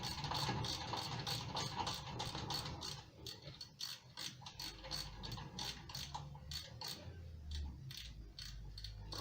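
A hand ratchet clicks steadily up close, undoing the two 7mm Allen key bolts on the front brake caliper of a 2006 Volkswagen Golf 2.0 TDI, with clanks and a low rumble underneath.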